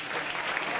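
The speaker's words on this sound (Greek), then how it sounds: "ένα χειροκρότημα για τους εαυτούς σας και" An audience at a karaoke event bursts into dense, steady applause, loud and continuous through a brief moment.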